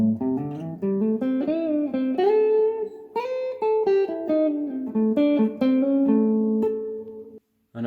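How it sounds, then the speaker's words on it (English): Blues lick on guitar, played slowly as a string of clear single notes with bends and slides, close and unaccompanied, tapering off near the end. "Part 1 and part 2 combined then will sound like this, nice and slow."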